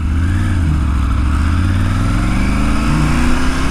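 A motorcycle rides through a quiet residential neighborhood of older homes in Schertz, Texas, its engine loud and close, a steady throbbing drone that rises and falls in pitch as it shifts and accelerates.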